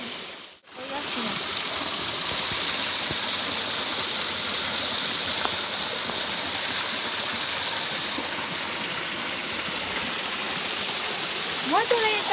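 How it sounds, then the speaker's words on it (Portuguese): Water in a marsh stream rushes in a steady, close, broadband wash that runs throughout after a brief dip at the start, with a voice speaking near the end. "quero mostrar para vocês um pouquinho do riacho aqui do brejo"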